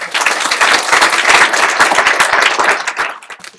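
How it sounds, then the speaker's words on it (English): An audience applauds a presenter from Ecuador at an art portfolio workshop, a dense steady round of clapping from many hands that holds for a few seconds before thinning out near the end. "If you can please join me in giving Kevin a round of applause."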